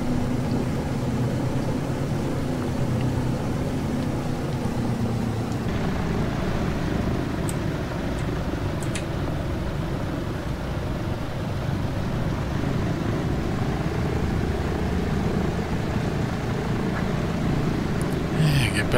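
An AeroWrx DC-3 taxis in X-Plane 12, its radial engines giving a steady, loud low drone and rumble that holds almost unchanged throughout, with a few faint clicks on top.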